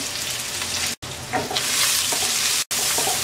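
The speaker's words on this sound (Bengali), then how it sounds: "পেঁয়াজ রসুনটাকে ব্রাউন কালার করে ভেজে নেব।" Chopped onion and garlic frying in a hot pan with whole cumin, a dense continuous sizzle and crackle close up, with two brief sudden dropouts of silence.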